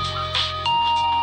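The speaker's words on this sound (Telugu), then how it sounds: "ఫోనండి." A phone ringtone chimes in a Telugu comedy movie scene, a steady electronic melody with sustained tones, moderately loud and alone without talk.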